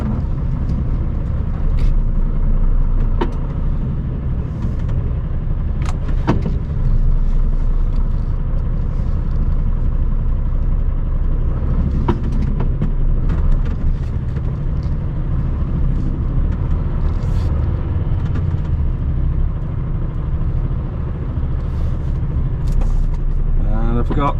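Class 2 lorry engine rumbling steadily at close range while manoeuvring in a cramped yard during a multi-drop delivery, with occasional clicks and hisses over the drone.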